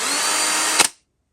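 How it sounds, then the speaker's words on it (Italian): A Parkside PABS 20-Li E6 20V cordless drill whines steadily, then a quick grinding rasp as the Quick Stop chuck brake catches, and the sound cuts off into silence. "questa grattata è il sistema Quick Stop che consente al mandrino di bloccarsi in modo immediato."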